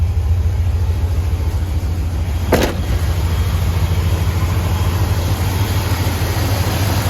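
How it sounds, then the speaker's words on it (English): A truck engine idles steadily on its own after a jump start with a newly replaced alternator, a low continuous rumble with one brief click partway through. "Truck's operating on its own now."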